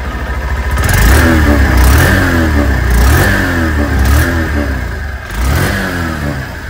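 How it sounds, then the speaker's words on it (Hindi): A 2023 Honda Shine 100 commuter motorcycle is revved through its exhaust in a run of close, loud throttle blips, each rising and falling, with a thin whine over the single-cylinder chug and no talking. "सबसे पहले एग्जॉस्ट के साउंड को चेकआउट करें"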